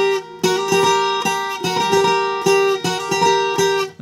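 A bright requinto guitar riff repeats several times, with quick hammered-on notes giving each phrase a snappy, rhythmic attack.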